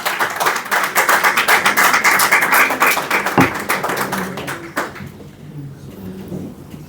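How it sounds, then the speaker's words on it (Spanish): Audience applause fills a church during an enthusiastic sermon, a dense steady clapping from many hands that swells and then fades out, with scattered shouts and voices over it. "¡Un aplauso!"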